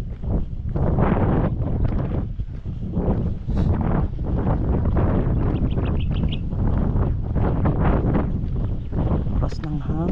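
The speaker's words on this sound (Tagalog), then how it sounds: "Lakas ng hangin." Strong wind buffeting the microphone outdoors among trees, a loud, continuous rumbling roar with gusts, with a few faint bird chirps.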